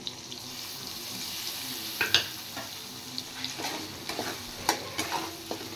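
A spice mix of cumin, ginger paste, chili powder, turmeric and salt frying in a pan, a low hiss with scattered spatula scrapes and taps while it is stirred; no one speaks.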